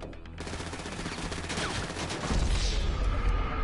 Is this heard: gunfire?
yes